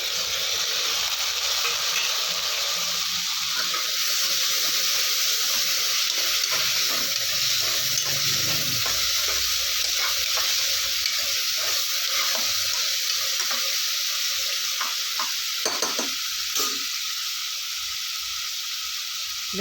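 Onions and tomatoes sautéing for vadacurry, a steady loud sizzle and hiss from the pan with occasional stirring scrapes, continuous and close throughout.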